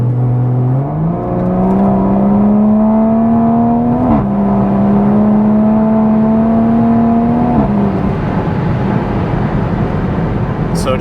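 A tuned-transmission MK5 Toyota Supra accelerates from 60 to 100, its engine drone climbing steadily in pitch and dropping briefly at each of a few quick gear shifts, loud and close throughout.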